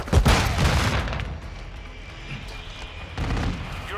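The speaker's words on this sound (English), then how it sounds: "Throwing flash grenade!" Flash grenade going off during a Call of Duty: Modern Warfare II multiplayer match on the Dome map: a loud sharp burst up front, then a rumbling gunfire-like tail and another swell of blasts near the end.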